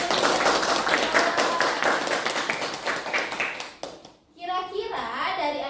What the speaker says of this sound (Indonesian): jika cukup boleh kita kasih tepuk tangan nih buat teman-teman